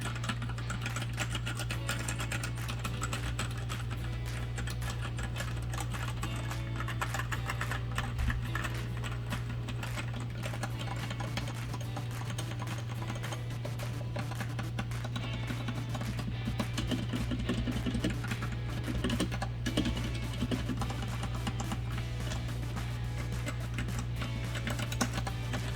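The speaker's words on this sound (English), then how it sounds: "we'll start with an unmodded keyboard" An unmodded mechanical keyboard is typed on continuously with dense, rapid key clacks over a steady low electrical hum.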